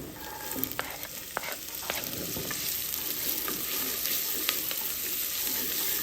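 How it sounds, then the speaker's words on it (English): Chopped carrots sizzle steadily in a frying pan, with a broad continuous hiss and scattered faint clicks and scrapes of stirring, heard close with no voices. "So I'm going to be putting in my chopped carrots."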